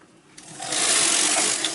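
A knitting machine carriage sweeps across the needle bed to knit one row of a sweater back, a loud close whooshing, clattering run that swells quickly and holds steady to the end.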